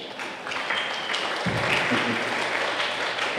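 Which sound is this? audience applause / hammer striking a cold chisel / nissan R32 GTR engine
audience applause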